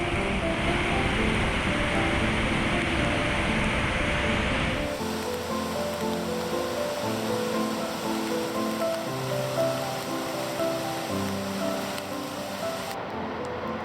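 Steady rain falls over a forest clearing in southern Norway, a continuous dense hiss that softens partway through, leaving lighter patter over a low background.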